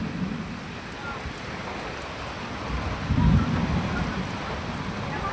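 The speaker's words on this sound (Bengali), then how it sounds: "বৃষ্টি এখন হচ্ছে দেখছি" Rain falls steadily on a village, a dense even hiss, and a low roll of thunder swells briefly near the middle before fading back into the rain.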